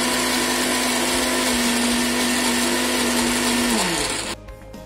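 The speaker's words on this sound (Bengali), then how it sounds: "সেদ্ধ মটরশুঁটির মধ্যে পরিমাণ মতো কাঁচা লঙ্কা এবং আদা দিয়ে খুব ভালোভাবে পেস্ট করে নেব।" A mixer grinder whirs loudly and steadily while grinding boiled peas with green chili and ginger into a paste, its motor holding a constant pitch before winding down and stopping near the end.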